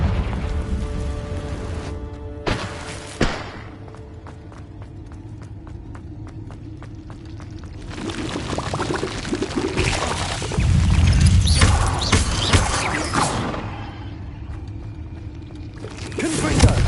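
Fiery Confringo spell blasts in the video game Hogwarts Legacy go off in several loud, crackling bursts, a short pair early, a longer rumbling cluster midway and another at the close, with quieter low ambience in between.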